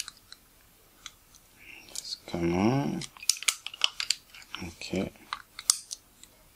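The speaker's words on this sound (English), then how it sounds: "Now if I put the ring again, now it should be clicking really nicely." Sharp little clicks and mechanical ticks come from a Nikon Nikkor 50mm f/1.4 Ai-s lens ring being turned during a service, close and scattered around a brief spoken phrase.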